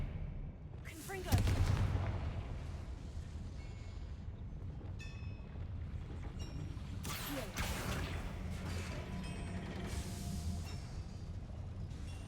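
Fiery Confringo spell blasts in the game Hogwarts Legacy: a loud, booming explosion near the start, then a rumbling aftermath and further bursts later.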